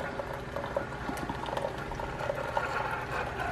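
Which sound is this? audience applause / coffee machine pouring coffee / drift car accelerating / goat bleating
coffee machine pouring coffee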